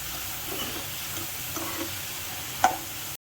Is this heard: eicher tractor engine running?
no